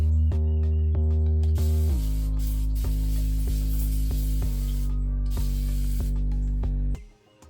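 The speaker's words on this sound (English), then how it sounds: "I'm going to take my wonderful water bottle and spray some more water on my hair" A spray bottle spritzes water onto hair in a quick series of short, evenly spaced hissing squirts over a steady tonal background that stops just before the end.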